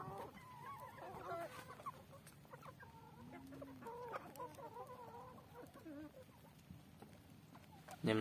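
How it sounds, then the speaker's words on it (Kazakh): Farmyard chickens cluck and a rooster calls softly on a small farm, the scattered bird sounds close but faint over a quiet background. "Міне тауықтар."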